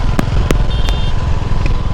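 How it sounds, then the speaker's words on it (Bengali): A motorcycle rolls through the streets of Puri toward the Jagannath temple, its engine a steady low rumble with a few sharp clicks and crackles over the top. "পুরীতে বাইক চালাচ্ছিস?"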